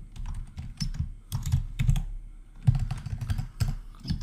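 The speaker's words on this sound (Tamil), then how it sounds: "ஸோ அதனால் நான் வந்து இதை கம்பெனி அப்படின்னு மட்டும் டைப் பண்ணிக்கிறேன்." Someone types on a computer keyboard while entering text in Adobe Illustrator, making close, quick bursts of clicking keystrokes with short pauses between runs. No talk.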